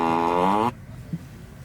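A car's seat fart sound effect in its Falcon Heavy variant: a loud, close, tonal blast that slides downward in pitch for under a second, then cuts off into quiet.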